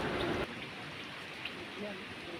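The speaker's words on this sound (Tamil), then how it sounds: "பயங்கரமான காற்று மழை பெஞ்சிட்ருக்கு" Rain and wind from a cyclone in the Andaman Islands make a steady, fairly faint hiss, with a louder gusty rush at the very start before it settles to an even wash.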